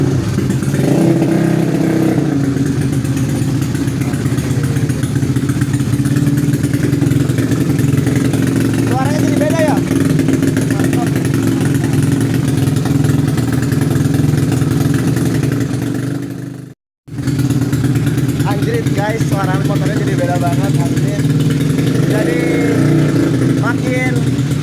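Racing motorcycle engine upgraded to 155cc, tuned up and running close by, idling roughly with intermittent throttle blips over a long stretch, briefly cutting out then resuming, while people talk over it.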